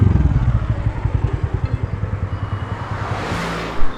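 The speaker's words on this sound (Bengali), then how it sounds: "এমন অবস্থায় রোডে গাড়ি যাতায়াতের আওয়াজ যেন অনেক বৃদ্ধি পেয়েছে।" A motorcycle rides along a highway at night with traffic nearby. The engine throbs steadily and close, and a louder vehicle surges past near the end.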